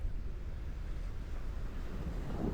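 Strong wind blows across a pier before a rock-fishing trip, a steady loud low rumble buffeting the microphone with no breaks.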